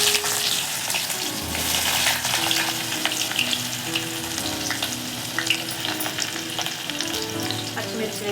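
Onions frying in oil with cumin and mustard seeds for an egg curry, a steady close sizzle with crackling pops and occasional stirring scrapes, no talk.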